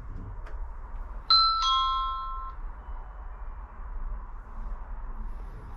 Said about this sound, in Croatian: koliko brzo dolazi obavijest kada neko zvoni ispred vrata